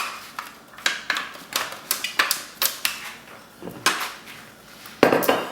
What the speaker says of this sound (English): I just set these in the pan just like this